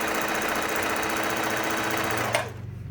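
A Bernette b05 sewing machine sews a classic zigzag stitch, its loud, close motor buzzing steadily before winding down near the end.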